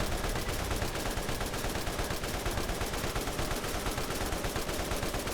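Rapid, continuous gunfire from the Borderlands video game during a boss fight, a dense stream of loud shots rattling without pause throughout, with no talk over it.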